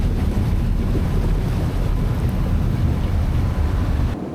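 A former Dutch navy vessel, HM De Naaldwijk, sails the North Sea, with a steady roar of wind and waves buffeting the microphone on deck, loud and continuous without speech.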